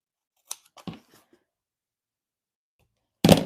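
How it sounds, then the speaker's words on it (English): Scissors cut off a piece of scored craft paper. A couple of crisp, close snips are followed by a quiet pause, then one louder snip at the end. "So that allows me to cut this off here."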